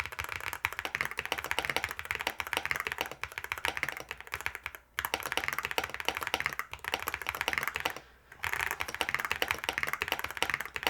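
Steady, fast typing on a Yunzii C75 mechanical keyboard, close and continuous, with two short pauses partway through; no talking.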